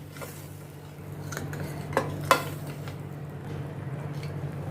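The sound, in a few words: stirring grated tomato and green chilli into onions in a pan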